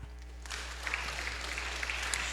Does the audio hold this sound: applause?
yes